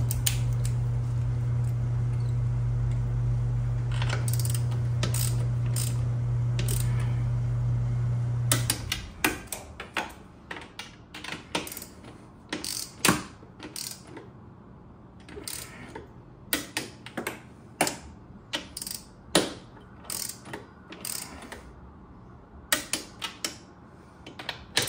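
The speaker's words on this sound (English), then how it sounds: "Now these are going to be torqued down to 18 foot-pounds." Torque wrench ratcheting bolts on a Sea-Doo jet pump to 18 foot-pounds, a steady hum at first giving way to close, crisp ratchet clicks in short irregular runs.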